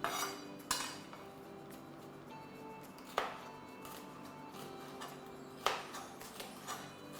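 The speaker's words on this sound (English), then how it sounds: "So I'm going to cut all my vegetables." A knife chops vegetables on a cutting board in a home kitchen, a few sharp, spaced knocks against a quiet background with no talking.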